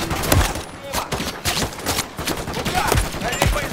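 Rapid bursts of gunfire aimed at a helicopter in the Modern Warfare III video game, dense and loud with repeated sharp shots and battle noise throughout.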